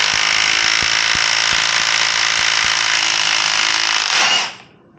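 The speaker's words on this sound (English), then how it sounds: "All right, so I need to get this on an impact wrench." A pneumatic impact wrench hammers loudly on the front sprocket nut of a 2023 Yamaha MT-10 for about four seconds, a dense, steady rattling burst that stops abruptly.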